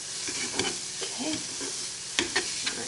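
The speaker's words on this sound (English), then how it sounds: "I just want to kind of get all those onions and everything incorporated in there" Caramelized onions stirred in a frying pan, a steady sizzle broken by several sharp scraping clacks of the utensil against the pan, close and moderately loud, with no talk.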